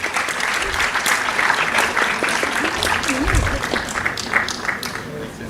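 Applause from a conference audience at an actuarial summit, dense and steady for several seconds, with a voice talking briefly underneath.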